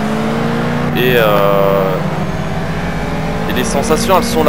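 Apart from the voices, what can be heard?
car engine in racing video game Project Cars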